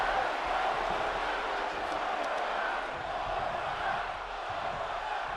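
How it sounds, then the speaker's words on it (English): Crowd in the WWE 2K23 wrestling video game, a continuous dense arena roar of many voices that holds steady throughout, with a faint chanting quality. "The crowd saying one more time"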